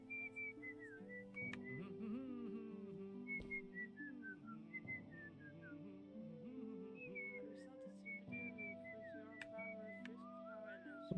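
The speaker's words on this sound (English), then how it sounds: "Oh, you're whistling." A person whistling a wandering, melodic tune in a series of clear sustained and gliding notes over a musical backing, close and continuous, with no talking.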